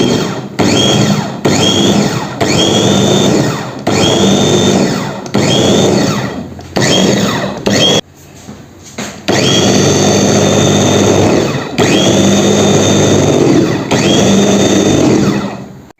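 An electric hand mixer whirs loudly, beating a chocolate coating mixture of cocoa, sugar and a pinch of salt in repeated bursts of steady high whine, with brief stops between runs and a longer pause midway.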